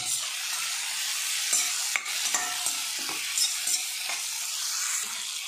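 Cut capsicum being sautéed and stirred in a pan, with a dense, close sizzle running throughout and several soft spatula scrapes and taps on top, no talking.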